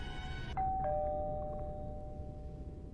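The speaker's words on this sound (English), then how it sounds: "Oh, I thought that was a doorbell sound." A two-tone electronic doorbell chimes once, the second note sustaining and slowly fading over a low background rumble.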